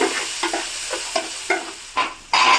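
Chopped tomato pieces frying in a pan, with a soft steady sizzle broken by rhythmic scraping strokes as they are stirred up close.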